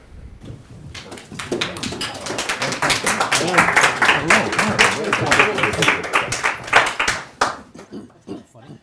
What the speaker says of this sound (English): I was going to measure the applause for me versus for Steve